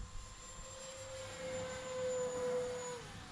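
An RC Turbo Timber Evolution model plane at max throttle, with a steady, fairly faint high motor whine holding one pitch over low wind rumble, then dipping slightly at the end.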